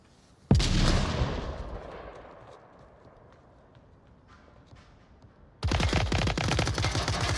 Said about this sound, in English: Multiple gunshots happening.